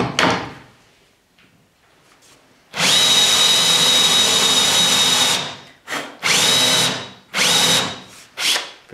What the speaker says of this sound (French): Donc on fraise avec une fraise assistante,